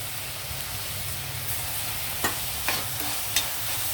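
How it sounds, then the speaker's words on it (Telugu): Onions and tomatoes frying in a pan for a mutton paya dish make a steady hissing sizzle, broken by a few sharp utensil scrapes near the end, with no talking. "ఈ టైంలో టమాటో వేసి వేగిందాం."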